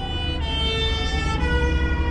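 Police car sirens wail steadily as they pass on a road in Belgium, heard from inside a C+E truck cab. The siren is continuous and fairly loud over a low engine rumble, with no talking.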